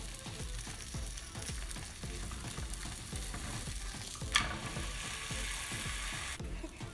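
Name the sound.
paratha cooking on oiled tawa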